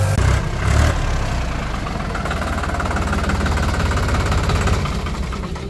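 A New Holland 3600-2 tractor engine runs steadily at idle, a low chugging drone that continues throughout, with a couple of louder bumps near the start.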